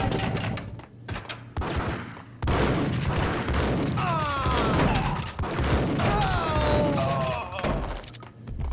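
Gunfire in a video game: bursts of rapid shots and heavy thuds rattle loudly and close, broken by short pauses, with whistling effects and game noise running underneath.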